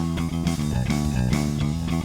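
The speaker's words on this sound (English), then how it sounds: "This is Josh playing just with everything flat, pre-shape off, and then the pre-shape on." Bass guitar played through a Trace Elliot TE 1200 amp with everything flat, pre-shape switched off and then on, giving deep round plucked notes in a quick riff, loud and close with no talking.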